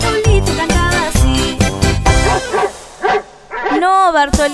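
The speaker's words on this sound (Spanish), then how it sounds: "No, Bartolito, ese es un perro." Yapping dog barks cut through a cheerful, busy children's song, ending in a wavering whine-like sound near the close.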